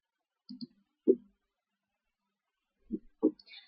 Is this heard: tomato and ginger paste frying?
no